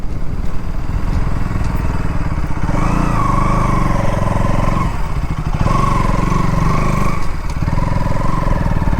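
A KTM Duke 200 motorcycle engine drones close by while riding, a steady buzzing roll with rising and falling revs as the throttle shifts, no talk over it.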